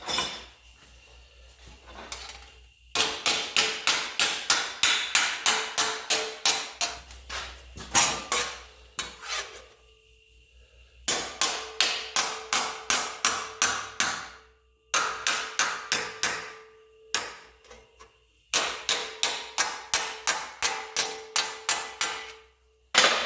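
A body hammer with a rounded edge strikes rusty sheet metal to shape a factory-style seam, delivering rapid bursts of ringing metallic blows in several rhythmic runs separated by brief pauses, loud and close.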